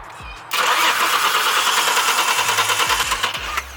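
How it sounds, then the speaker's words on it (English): A car engine turns over with a loud, steady mechanical churning for about three seconds without catching into a running idle, close and unbroken; the car fails to start. "Why is the car trying to start"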